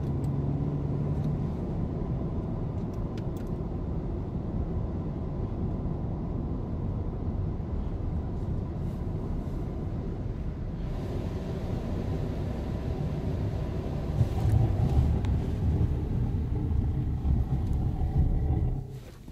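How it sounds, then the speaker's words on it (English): A car on worn tires brakes from 45 mph to a stop on a wet surface, heard as a sustained low engine and road rumble with tire hiss that carries on steadily and cuts off abruptly at the end, with no voices. "45 miles per hour to 0 braking test on wet surface."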